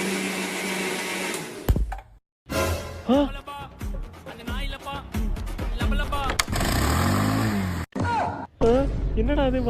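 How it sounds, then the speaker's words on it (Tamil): A kitchen mixer grinder whirs loudly in bursts during a Tamil comedy scene, its motor drone mixed with several people talking over it. "என்ன மிக்ஸி ஓடுது?"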